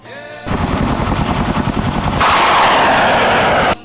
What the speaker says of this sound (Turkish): Şimdi füzenin deneme atışlarını izleyelim.